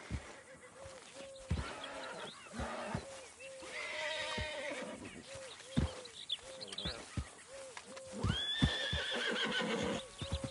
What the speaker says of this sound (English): Come here, you silly nag.